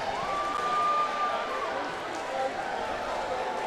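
Basketball crowd noise at Newberry after a buzzer-beater in a SAC tournament game, a dense, sustained roar of cheering under an announcer's voice.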